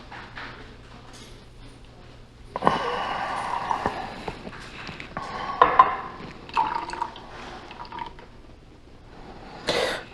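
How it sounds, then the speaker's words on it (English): Guinness being poured into a pint glass, with intermittent glugging and splashing of liquid in bursts, close and moderately loud with no talk. "You simply pour your 1/2 pint of Guinness into the pint glass."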